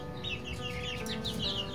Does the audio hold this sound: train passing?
no